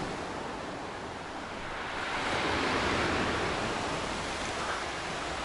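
Waves roll steadily onto an empty beach at Matsesta near Sochi, a broad continuous wash of surf that swells slightly midway, with no voices.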